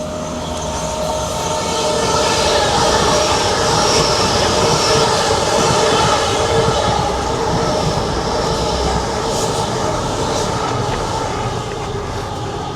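A train running along a rail route rolls past steadily and close, a dense, continuous rumble with wheel and rail noise holding strong for the whole stretch, peaking toward the middle before easing slightly.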